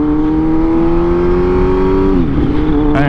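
A Ducati V4 motorcycle engine holds a loud, steady high-pitched drone close by, then the revs drop sharply near the end.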